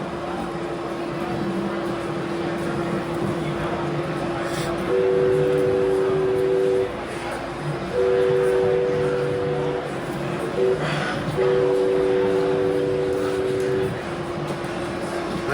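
Over a constant mechanical rumble, a model RDC train's two-tone Hancock air whistle blows three times in long, evenly spaced blasts, each lasting about two seconds.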